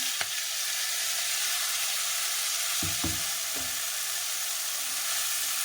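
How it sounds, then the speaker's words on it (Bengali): A paste of ginger, green chili, tomato and cashew frying in hot oil with cardamom, cloves and cinnamon, a continuous close sizzle broken by a few soft knocks of stirring. "মশলাটা একটু করতে থাকবো এই তো মশলাটা কষানো হয়ে গেছে"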